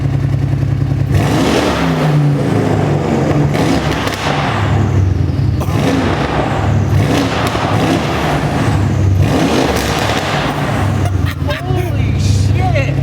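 A straight-piped Mercedes-AMG C63 S with new downpipes revs loudly in repeated blips and surges. People shout and talk excitedly over the engine noise.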